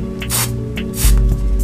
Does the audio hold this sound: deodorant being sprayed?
yes